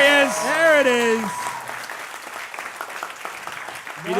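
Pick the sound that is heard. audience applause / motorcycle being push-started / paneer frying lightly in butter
audience applause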